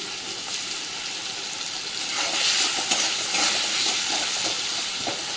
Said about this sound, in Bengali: এবার আমি মশলাটা ভালো মতো কষিয়ে নেব